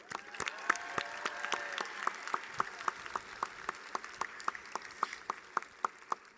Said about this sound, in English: Everyone join me in a round of applause for Linda Choi.